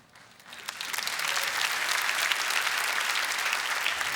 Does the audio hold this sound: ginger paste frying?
no